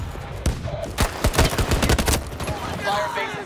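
Artillery fire mission in Battlefield 2042 erupts as a rapid, loud volley of close shots and impacts in an uneven rhythm, trailing off into background battle noise and distant radio-like chatter.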